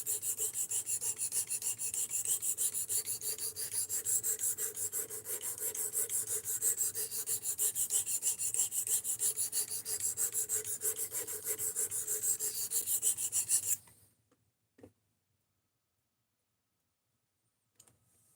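Freehand knife sharpening on a stone: a steady rapid rasping scrape of steel strokes in close succession for about fourteen seconds, loud and near, then stopping abruptly into silence with a couple of small taps.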